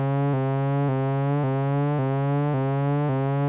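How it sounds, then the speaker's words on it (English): A buzzy synth tone modulated by a sawtooth LFO, its pitch rising steadily and then snapping back down, repeating about every half second in a regular rising cycle. "sawtooth waves are shaped like this, the pitch is going to go up, boop, and then restart"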